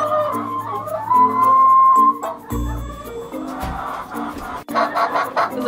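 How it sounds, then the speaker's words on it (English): Chickens cluck and murmur close by in a pen in winter, with overlapping calls and some shuffling and bumping noises. "we will just go back to the chicken pen and hang out with the chickens for a little bit"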